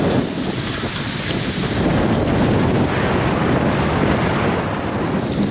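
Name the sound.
wind and waves in cove as hurricane approaches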